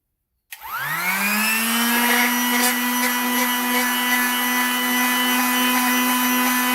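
A Toluca meteorite slice is polished at 2000 grit on a spinning machine that starts abruptly and settles into a steady loud whine with a strong hum, running continuously nearby.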